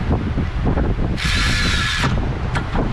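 Power tool spinning a deep socket on an extension against a bolt in a worn 300k-mile Ford Escape 3.0 V6 engine bay, one short whirring burst of under a second amid outdoor wind noise.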